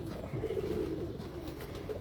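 Champion-breed Teddy pigeons coo softly nearby, a low, rolling, throaty murmur that repeats over a faint steady background.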